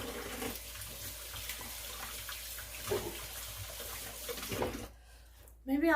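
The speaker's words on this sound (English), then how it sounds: "Here, rinse out my hand," A hand rinsed under a running kitchen tap, a steady splashing stream for several seconds that cuts off near the end, followed by a brief clunk.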